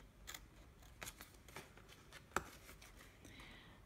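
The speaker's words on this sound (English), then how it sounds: "you'll need to just cut up there and cut these little triangular pieces out" Scissors snipping triangular tabs out of card for a pop-up cube, a series of sharp close snips at irregular intervals with one crisp louder cut, quiet otherwise.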